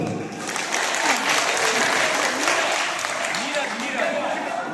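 An audience in a political party gathering hall claps loudly and steadily, sustained applause filling the room for several seconds without a break.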